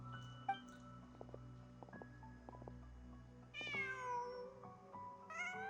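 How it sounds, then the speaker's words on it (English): A cat in Genshin Impact gives a few short meows, a faint one early and clearer, rising cries later, set against a quiet musical background. "Just a cat."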